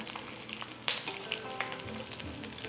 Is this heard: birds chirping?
no